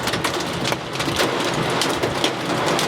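Heavy rain pours steadily during a severe storm, with a dense, continuous roar of drops close by and low thunder rumbling underneath, no voices present.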